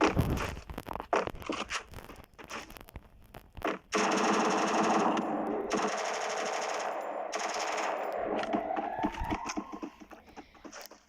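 Automatic gunfire from the mobile shooter game Free Fire crackles in rapid bursts and sustained rattling volleys, loud and dense, with scattered single shots.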